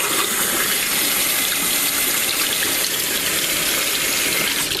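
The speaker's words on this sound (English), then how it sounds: "Run some water in it." Tap water gushes steadily into an empty cup, a loud continuous rushing splash that holds unchanged throughout.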